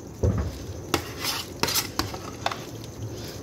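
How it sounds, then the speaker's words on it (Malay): Warabi mochi dough is kneaded by hand, giving a series of soft, irregular slaps and squelches with some light clinks against a dish, close and fairly quiet with no talk. "Uli guna tangan"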